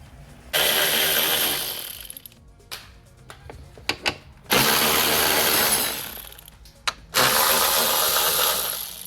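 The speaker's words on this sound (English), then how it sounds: "10mm socket we need, ratchet extension." A tool with a 10mm socket and extension removes cover bolts on a 2016 BMW 3 Series F20, giving three loud sustained whirring bursts close by, separated by quieter clicks and clanks.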